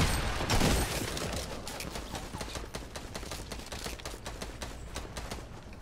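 Gunfire in the video game Fortnite: a louder blast at the start, then a rapid, fairly quiet string of distant shots crackling steadily through the rest.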